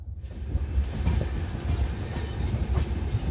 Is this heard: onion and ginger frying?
no